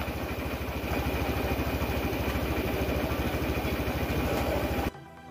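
A motorcycle engine runs loud and steady, held on the throttle with a throbbing low rumble, then cuts off abruptly near the end.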